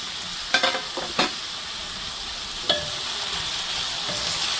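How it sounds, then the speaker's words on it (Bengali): Potatoes, seasoned with salt and turmeric, fry lightly in a pan with a steady close sizzle, broken by a few sharp stirring knocks near the start and middle. "হালকা ভেজে নেব আলুটা"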